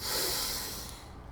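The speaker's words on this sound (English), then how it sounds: "Let's take a deep breath in." A deep breath drawn in during a guided breathing meditation, a single close, airy inhale that swells quickly and then slowly tapers off, heard alone with no talking.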